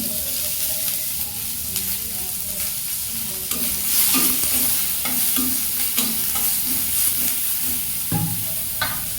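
Chopped onion frying in mustard oil for a dal and bitter gourd dish, a steady crackling sizzle up close with repeated scraping stir strokes through the pan, no talking.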